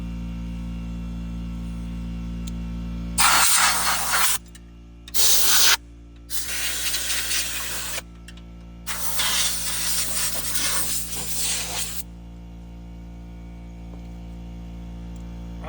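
Loud bursts of compressed air blast grass clippings off a 72-inch Ferris mower, several harsh hissing gusts of uneven length separated by short gaps, over a steady low engine hum.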